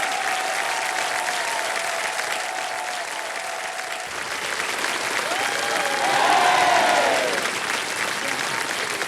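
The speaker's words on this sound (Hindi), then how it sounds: "तालियों के साथ इनका स्वागत।" Studio audience at the KBC quiz show breaking into sustained, full applause to welcome guests, the Asia Cup–winning women's ice hockey players, swelling slightly louder midway and continuing steadily throughout.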